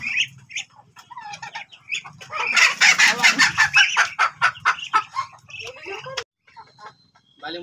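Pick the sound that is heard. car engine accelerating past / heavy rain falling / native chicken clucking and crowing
native chicken clucking and crowing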